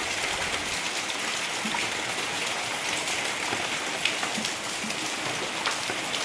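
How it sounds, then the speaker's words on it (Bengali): Heavy rain pours down in a steady, dense hiss with no break, close and loud throughout, with no voices. "চলো তোমাদেরকে বৃষ্টি দেখাই, কি পরিমাণ আমাদের এখানে বৃষ্টি হচ্ছে দেখো"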